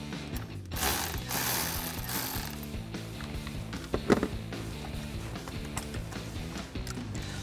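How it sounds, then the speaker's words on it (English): A 10 mm socket ratchet clicks in quick repeated bursts, loosening the negative battery terminal on a 2021–2022 Ford Bronco, close up and quiet with one sharper knock midway. "To disconnect the negative battery terminal, we're gonna use our 10 millimeter socket."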